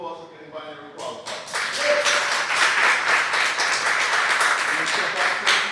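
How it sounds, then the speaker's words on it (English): An audience at a leadership tour event breaks into loud, dense clapping that builds within a second and carries on steadily, close and full, with a voice briefly heard at the start. "Can we give Lisa a round of applause for getting binary qualified"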